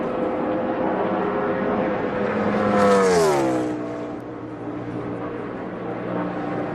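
Kevin Harvick's No. 4 NASCAR Sprint Cup car on a qualifying lap at Texas in 2014, a high-pitched engine howl that rises as it approaches, peaks, then drops in pitch as it roars past and fades, under a distant crowd-like wash.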